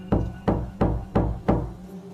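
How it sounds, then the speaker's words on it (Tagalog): Knocking on a bed frame at night, five evenly spaced solid knocks about a third of a second apart, close and fairly loud, with no voices. "narinig kong muli ang mga katok"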